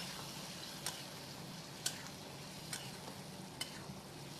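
A spoon stirs chicken curry masala in a pan with a little added water, making a soft continuous sizzle with a few sharp scraping clicks against the pan at intervals, faint and close.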